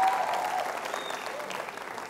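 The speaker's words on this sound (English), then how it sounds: "So you can give yourself a round of applause one more time" A TEDx audience gives a round of applause, dense even clapping from a large crowd at fairly constant loudness throughout, with no talk over it.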